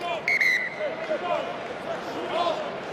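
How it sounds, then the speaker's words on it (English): A referee's whistle sounds at a rugby union Six Nations match between Italy and Wales, a short bright blast near the start, followed by faint crowd noise. "Plenty of whistle there from Boys, down here."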